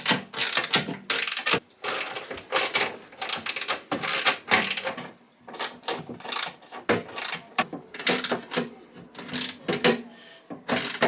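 A ratchet tightens bolts on a swivel seat base in an MK2 VW Crafter / MAN TGE van, producing close, rapid bursts of clicking strokes separated by brief pauses, with no talk.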